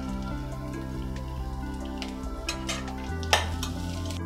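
Green chillies and ginger sizzle in hot oil in a pan for Bombay chutney, a steady close crackle with stirring scrapes and a louder spatter of popping near the end.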